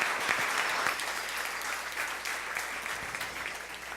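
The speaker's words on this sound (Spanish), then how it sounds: "Un aplauso, por favor." Audience applause after a speaker is introduced at a Big Data and JavaScript conference in Medellín, steady dense clapping from a room of people lasting about four seconds at moderate level.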